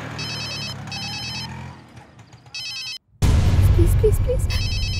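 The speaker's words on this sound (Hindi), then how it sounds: "सुनो, तुम्हारा फोन बज रहा है।" A mobile phone rings in repeated electronic tone bursts, pausing and resuming, then continuing over louder background noise and a brief voice toward the end, in a Hindi-dubbed film scene.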